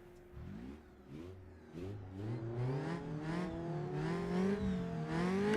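Historic race car engines in the rFactor 2 sim racing game rev up steadily, the rising pitch climbing through several revving pulls, loud and continuous with no talking.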